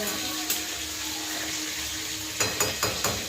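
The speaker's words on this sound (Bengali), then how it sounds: "বেগুন ভাজছি" Eggplant frying in a pan, giving a steady, soft, hissing sizzle, with a few sharp crackles popping near the end.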